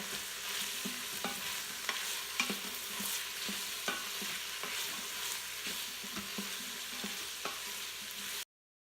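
Coconut flakes sauté in an Instant Pot for a beef rendang-style stew: a steady, bright sizzle runs throughout, broken by regular scraping stirs about once or twice a second.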